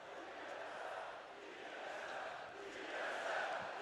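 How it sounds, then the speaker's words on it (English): A large crowd at a League of Legends match chants TSM, a faint, distant roar of many voices swelling and dipping in rhythm, with a spoken voice over it. "the whole crowd is chanting TSM"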